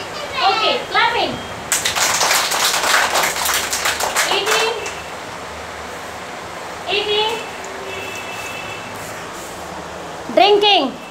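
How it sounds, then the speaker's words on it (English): Children in a classroom clap their hands in a burst of quick, close claps, with kids' and a teacher's voices speaking before and after. "Okay, clapping."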